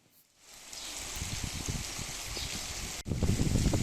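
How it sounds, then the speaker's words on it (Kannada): Heavy rain and wind in Madikeri, Kodagu, a steady rushing roar of downpour with gusty wind buffeting the microphone, rising after a quiet start and getting rougher near the end. "ಕೊಡಗಿನಲ್ಲಿ ಮಳೆಯ ಆರ್ಭಟ ಮುಂದುವರೆದಿರುವಂಥದ್ದು"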